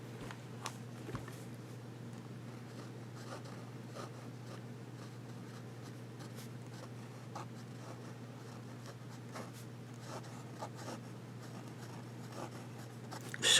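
A Fountain Pen Revolution Ultraflex steel nib scratches faintly across paper in quick strokes, soft close scribbles over a low steady hum.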